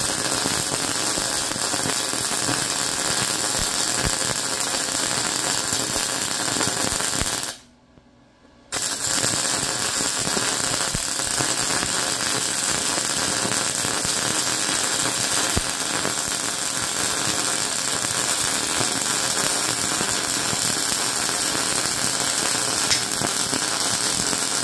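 A Yeswelder MIG205DS Pro MIG welder lays a bead on quarter-inch steel plate with a close, continuous crackling sizzle. It breaks off once for about a second, then resumes and runs steadily to the end.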